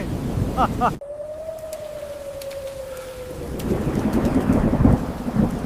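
Steady heavy rain pours throughout, with a low rumble swelling near the end; a brief tonal sound rises early and fades.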